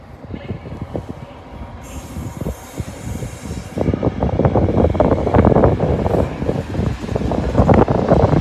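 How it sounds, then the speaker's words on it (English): CrossCountry high-speed train on the Plymouth to Edinburgh service passing through Derby station, a steady rumbling roll of wheels on rail that swells louder midway, with rhythmic clatter and some wind buffeting on the microphone. "the 16:45 cross-country high-speed train service from Plymouth to Edinburgh"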